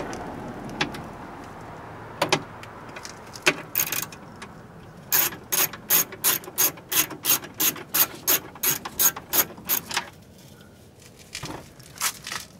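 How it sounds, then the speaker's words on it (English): A ratchet with an 8mm socket turns a bolt on a BMW 328i E46 during window regulator work, giving a steady run of about a dozen sharp, evenly spaced clicking strokes close by, with a few scattered clicks before it. "Here's an 8mm socket."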